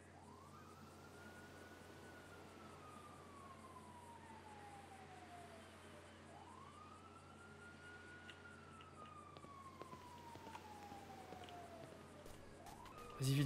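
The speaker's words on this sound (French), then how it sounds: "Attends encore les sirènes." Emergency vehicle siren in GTA RP gameplay wails in slow rising and falling sweeps, fairly faint and distant over a steady low background hum, with no talking.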